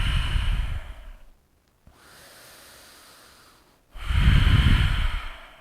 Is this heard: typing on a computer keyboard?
no